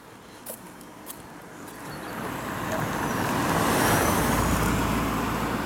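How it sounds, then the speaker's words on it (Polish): Cars rolling along a road in the town of Lądek-Zdrój, a steady wash of traffic noise that swells as a vehicle draws nearer and passes, with no voices. "Samochody posuwają. Gdzie one jadą?"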